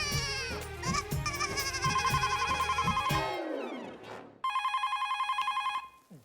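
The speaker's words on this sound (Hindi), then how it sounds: "जरूर सुंदर का फोन होगा।" A telephone rings in repeated electronic trills, pauses briefly, then rings again, loud and close.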